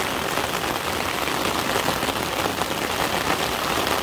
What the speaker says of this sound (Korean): 비가 많이 온다 지금